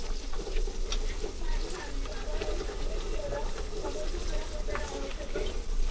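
Onion and tomato frying in a pan for dal khichadi, a steady close sizzle with stirring scrapes throughout, no clear talk over it.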